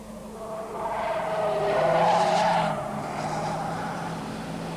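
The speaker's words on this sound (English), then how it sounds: "the smaller Unos and Golfs squeal their way around the 34-kilometre distance" Small Fiat Uno and VW Golf rally cars squeal their tyres around a 34-kilometre race track course, a loud sustained engine roar with tyre screech swelling near the middle, no voices.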